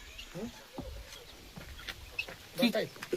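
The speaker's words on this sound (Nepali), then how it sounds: "ऊ भाले पनि छ त" A rooster at a hillside resort in Phidim, Panchthar gives a few short, faint clucking calls, clearest near the end, mixed in with nearby voices and light background noise.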